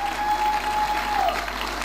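Church congregation clapping hands during testimony time, a steady dense patter of many hands close by, with a faint electronic tone humming underneath briefly.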